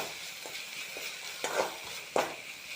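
Fried rice being stir-fried in a home kitchen pan, with a steady sizzle and a few sharp scraping strokes of a spatula, close and moderately loud, with no talk.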